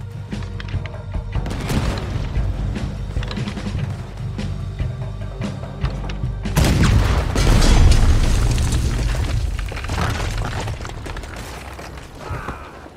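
Ship-mounted cannon fire in Red Dead Redemption 2 during a sea escape: a rumbling background boom early on, then a heavy, loud blast that rolls out and slowly fades over several seconds.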